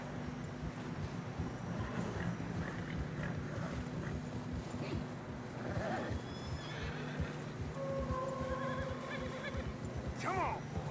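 Horses in Red Dead Redemption 2 struggle through fresh snow, whinnying and neighing with muffled hoof thuds and snorts over a steady wind-like background, while a voice talks now and then.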